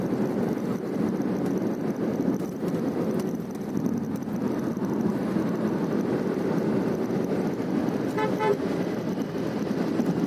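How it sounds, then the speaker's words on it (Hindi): Steady heavy traffic on the Delhi–Chandigarh national highway near the Kundli border, a constant dense road rumble with a short burst of horn toots standing out partway through. "ट्रैफिक पूरा, आप आगे देखिए लगातार 8, 10, 15 गाड़ियाँ चलती हुई"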